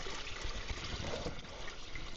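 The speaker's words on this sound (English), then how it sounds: "I'm just draining the water out of the barrel." Water drains out of a heavy barrel in a steady, rushing trickle that holds at a moderate level throughout, with no talking.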